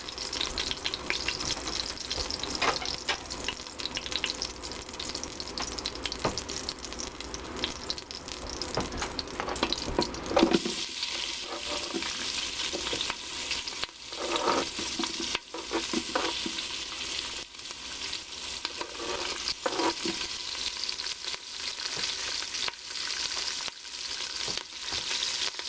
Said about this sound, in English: Now then, we'll add the onions to the mix.